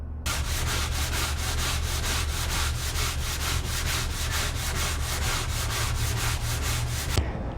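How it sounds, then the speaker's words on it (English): Sandpaper worked by hand across a wooden table top being refinished, rapid rhythmic back-and-forth rubbing strokes, close and steady for several seconds before stopping abruptly. "we are down to the last patch of the first round of sanding"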